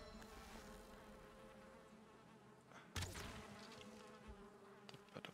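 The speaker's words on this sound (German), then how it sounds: "Schon wieder Bienen." Steady, dense buzzing of bees swarming in the video game Valheim, continuous and close throughout with a few sharper clicks and game sounds on top, no voices.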